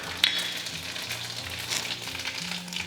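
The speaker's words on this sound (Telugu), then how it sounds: "ఆవాలు, జీలకర్ర ఇట్లా ఆల్రెడీ పెట్టుకుంటా కాబట్టి వేసేస్తున్నా." Mustard seeds and cumin sizzle in hot oil in a pan, a steady close frying hiss with faint crackles that runs the whole clip without pause.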